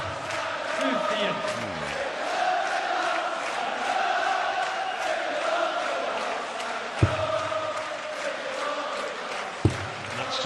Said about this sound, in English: Crowd trying to rouse their heroes